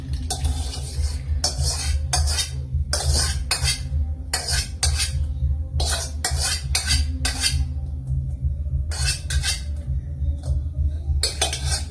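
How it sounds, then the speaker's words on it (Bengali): A milk mixture for dudh puli pitha is stirred in a metal pot, with a spoon scraping and clinking against the sides in quick uneven bursts over a low steady hum. "তো এইভাবে আস্তে আস্তে মিশিয়ে নিচ্ছি"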